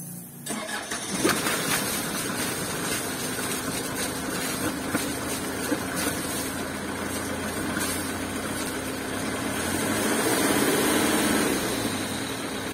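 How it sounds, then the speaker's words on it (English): A diesel engine being decarbonized to cut black exhaust smoke cranks and starts, then runs at high, sustained revs with a loud, steady roar that swells slightly near the end. "and then restart the engine to do more high revving."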